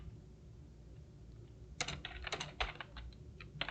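Close, fairly quiet keystrokes as C++ code is typed on a computer keyboard, arriving in quick irregular bursts after a short stretch of near silence.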